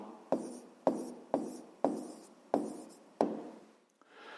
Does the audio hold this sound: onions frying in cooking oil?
no